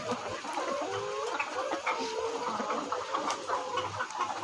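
Several layer hens recovering from fowl cholera and a cold cluck steadily in a continuous, busy chorus, fairly close, with overlapping calls and no talking.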